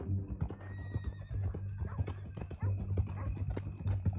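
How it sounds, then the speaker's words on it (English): A horse in the Red Dead Redemption 2 video game neighs and whinnies in several rough, rising bursts, close and fairly loud, with soft hoof clip-clops and low background rumble underneath. "That a new horse?"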